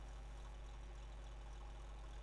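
Tractor engine idling steadily in Farming Simulator with Polish machines, a low constant rumble with a shaky, vibrating drone, heard alone without talk.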